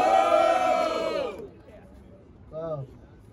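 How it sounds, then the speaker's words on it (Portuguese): A rap battle crowd at Batalha do Coliseu shouts and cheers loudly in unison, then the roar cuts off and a shorter shout follows after a pause. "Barulho só pra quem achou que foi caô, família!"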